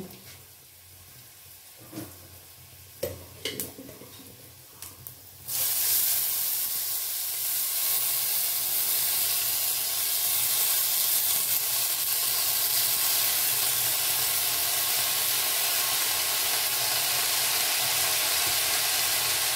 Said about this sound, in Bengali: এই মোমেন্টে আমি শাকটা দিয়ে দেব।